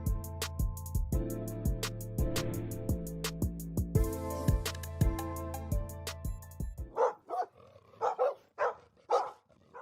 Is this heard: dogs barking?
yes